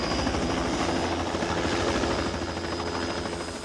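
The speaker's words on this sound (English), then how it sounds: "the sound of the helicopter still evokes memories of a now distant" A helicopter flies close by, its rotor chop and engine whine loud and continuous, easing off slightly toward the end.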